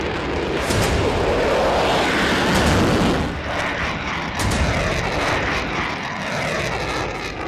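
An F-16 fighter jet flies overhead with a loud, broad roaring rush that swells and holds steady throughout, with no voices present.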